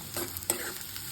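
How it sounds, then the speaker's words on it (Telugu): Thinly sliced onions fry in hot oil until golden for a spicy mutton fry. The sizzle stays soft and steady and close, with a few brief stirring scrapes. "గోల్డెన్ కలర్ వచ్చేంత వరకు ఫ్రై చేసుకుంటూ ఉండాలి."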